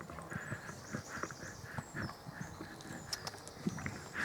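A horse moves forward at a steady pace during a riding session in Kinaldy, St Andrews, Fife, its hoofbeats falling in a rhythmic clip-clop at moderate distance with faint background noise.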